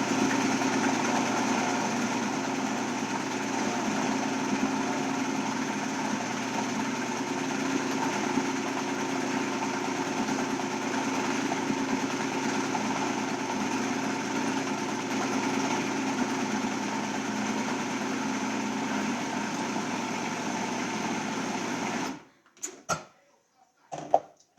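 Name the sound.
blender grinding lentil hummus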